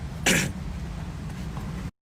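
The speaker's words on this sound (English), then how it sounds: "But that cough is something though" One short, harsh cough near the start, close and loud, followed by a steady background hum.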